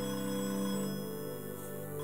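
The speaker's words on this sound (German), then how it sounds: "Telefon." A telephone rings continuously with a steady electronic bell tone, loud and close, holding without pause and with no voices.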